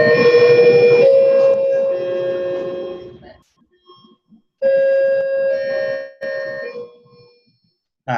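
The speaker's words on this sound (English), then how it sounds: "then the bells went off" A bell ringing in repeated loud bursts, a tonal electric-sounding chime that sounds for about three seconds, pauses, then returns in two shorter rings before cutting off.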